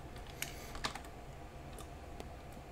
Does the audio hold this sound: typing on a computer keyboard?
yes